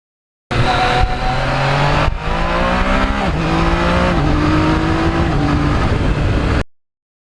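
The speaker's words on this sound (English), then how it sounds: "the exhaust system on this bike is exceptional" A Yamaha MT-09 naked motorcycle's exhaust roars loud and close, its engine pitch climbing through several rising revs with a brief dip between pulls.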